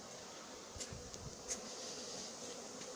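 A honey bee swarm being collected at Villabé hums faintly and steadily, with a few individual bees buzzing past close by; no voices.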